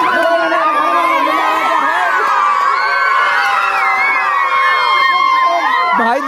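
A dense crowd of adults and children shouts, cheers and chatters all around on a rooftop, a loud continuous din with overlapping voices and occasional whoops.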